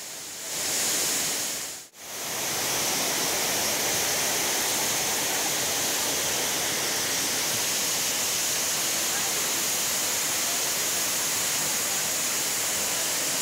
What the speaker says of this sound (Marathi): डोंगर माथ्यावरून मोठ्या प्रमाणात पाणी घरामध्ये शिरलेलं आहे